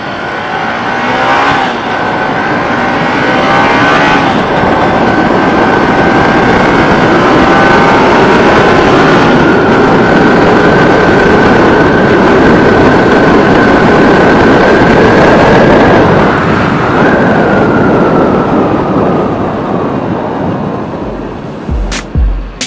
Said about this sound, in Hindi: तो ये है स्टॉक एग्जॉस्ट वाला बाइक।